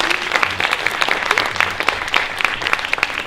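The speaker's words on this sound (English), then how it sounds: "Can we get a round of applause for all of our wonderful speakers?" An audience at a university talk event applauds speakers steadily with dense, even clapping that carries on throughout, fairly loud and close.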